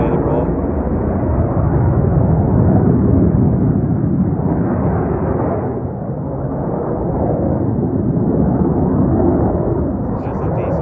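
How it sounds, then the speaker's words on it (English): Diesel engine roars loud and sustained at high throttle near a culvert-clearing job with tractors, a dense rumbling blast that barely lets up, close to the listener. "That's a diesel turned up to it too much, isn't it?"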